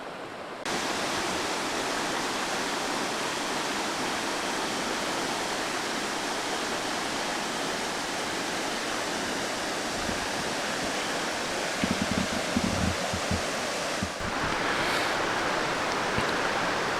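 A river flows steadily beside a campground at Tea Creek in West Virginia, a loud, continuous broadband rush of water that holds for the whole stretch, with a few brief low knocks near the end.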